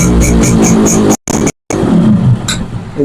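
A Yamaha RX100 two-stroke motorcycle engine idles and revs nearby with a loud, buzzing, crackly tone, briefly cutting out twice before picking back up.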